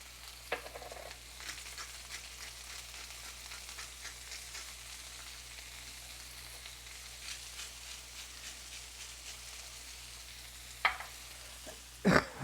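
Spicy-seasoned chicken pieces seasoned with salt and pepper sizzle and brown in a pan. The frying is a steady, faint crackle with occasional stirring clatters and a clink near the end.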